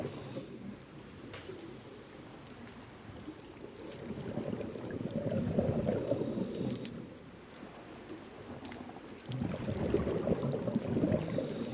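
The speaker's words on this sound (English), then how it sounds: "You can hear the respirators," Muffled underwater breathing of divers' respirators: slow surges of rushing, bubbling exhalation swell and fade in long waves, with soft crackles in between.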